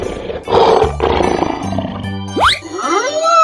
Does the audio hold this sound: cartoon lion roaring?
yes